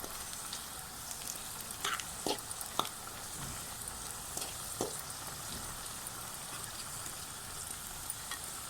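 Okra masala sizzles steadily in a frying pan as it browns, with scattered sharp crackles and pops from stirring over a constant hiss. No voices.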